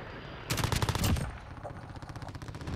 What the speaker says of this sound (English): How accurate that submachine gun is, it's fucking dumb.